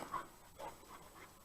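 A small cocker spaniel pants close by in quick, breathy bursts, a few rapid huffs with slight whimpery edges, fairly soft and alone.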